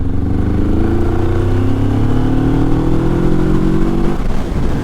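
A Moto Morini Seiemmezzo parallel-twin motorcycle engine revs up close and loud, pitch climbing smoothly over several seconds before dropping off as the throttle closes.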